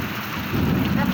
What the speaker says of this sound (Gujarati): બહુ વરસાદ પડે છે હો ભાઈ